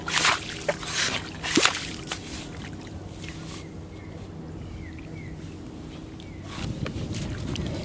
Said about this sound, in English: just find a nice set of holes, have a pump there, move a bit further along and pump again